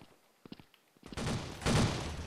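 Gunfire from the shooter game Blood Strike: a few sharp isolated shots at first, then a dense, loud burst of rapid firing that swells and stays sustained to the end.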